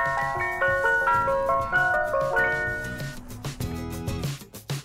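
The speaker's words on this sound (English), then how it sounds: "This is an ice cream truck." Bright tinkling melody played from an ice cream truck's chime speaker, a loud jingle of quick repeated notes that runs on, then breaks into a few choppier phrases near the end.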